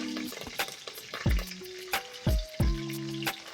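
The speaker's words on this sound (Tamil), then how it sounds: "இது எல்லாம் எண்ணெயில் நல்லா ஃப்ரை ஆகட்டும்." Green chillies fry in hot oil in a pan while being stirred for a soya variety rice dish, with a steady sizzle broken by clattering spoon-on-pan scrapes and knocks, close and loud, with no speech.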